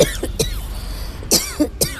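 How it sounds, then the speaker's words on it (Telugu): A person coughs several times in short, sharp bursts, close to the microphone, separated by brief pauses, in a home kitchen where red chili powder is being made. "దగ్గు."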